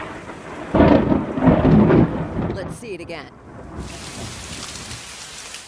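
Thunder from a storm over Lakeside in San Diego booms in a loud, rolling crack before settling into steady rain drumming on surfaces, with a voice speaking briefly over it.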